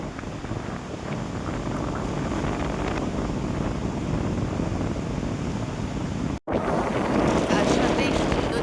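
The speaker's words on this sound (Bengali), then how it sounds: "পুরীর সমুদ্রের এই যে ঢেউর আওয়াজটা না এত ভালো লাগে" Sea waves break on Puri beach in the wind, a loud, continuous wash of surf and gusty rush filling the scene, with one brief dropout partway through.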